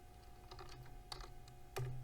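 Keys clacking on a computer keyboard while a command is typed, a handful of quick close taps in an uneven rhythm, in a quiet room.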